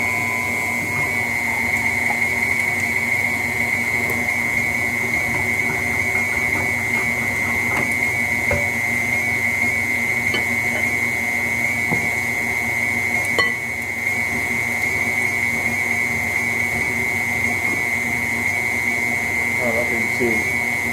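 KitchenAid grinder attachment sharpening a blade: a steady, continuous high whine with a grinding mechanical hum that runs unchanged throughout, with faint clinks.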